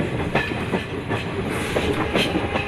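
A train travels the Silchar–Lumding mountain railway through the hills of Dima Hasao, with a steady rolling rumble and repeated clickety-clack of wheels heard from on board, with no voices.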